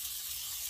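Aerosol oil sprayed onto Ford 5.0L 302 engine parts during a rebuild for a 1951 F1 truck, a brief steady hiss lasting under a second, close and fairly loud.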